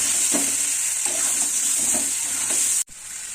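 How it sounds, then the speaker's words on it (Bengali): Potato pieces frying in a pan for vegetarian aloo dum, a continuous close sizzle with light stirring scrapes, ending in a brief dropout near the end, no talking. "তারপর কিছুক্ষণ এটা ভাজবো।"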